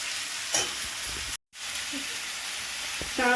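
Jaggery for an Indian olive chutney cooks in a pan on a low gas flame, giving a steady close frying sizzle, stirred, with one brief dropout midway.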